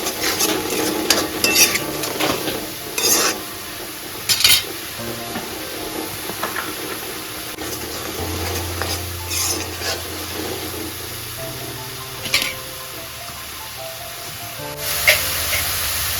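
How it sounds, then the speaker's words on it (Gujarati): Ground spices, turmeric, red chilli, garam masala and coriander-cumin powder, stirred and roasted with green corn in an oily pan, a spoon scraping and clinking in irregular strokes over a soft sizzle, with occasional louder knocks against the pan. "ગરમ મસાલો, ધાણા જીરું પાવડર અને એને મિક્સ કરીએ અને બરાબર થોડી વાર માટે શેકાવા દઈએ"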